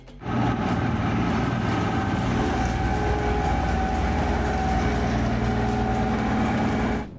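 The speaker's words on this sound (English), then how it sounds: "The operation of this snow clearing machine looks hypnotizing and magically beautiful" A railway snow clearing machine works along the track, a loud continuous mechanical roar and rumble with steady tonal hums, rising in and cutting off near the end.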